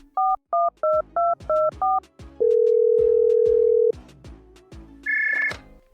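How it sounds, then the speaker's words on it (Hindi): A wall-mounted telephone is dialed with six quick touch-tone beeps. A long steady tone follows, then a short higher tone. All of it is clear and close, with no talking. "अब वक्त आ गया है उन दीवार पे चिपके हुए टेलीफोन्स का यूज करके किसी को बुलाने का"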